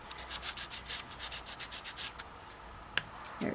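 Hand sanding of soft filler material during a doll restoration, a rapid rhythmic back-and-forth rubbing scrape, close and continuous before pausing, followed by a couple of small knocks and handling noises.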